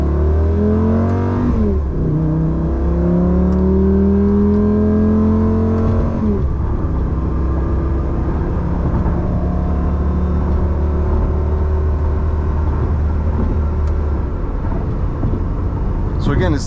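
A 2006 Lamborghini Gallardo pulls away from a stop and accelerates, its engine climbing through rising revs with a clear gear change, loud and close from inside the car, with a voice talking over the engine.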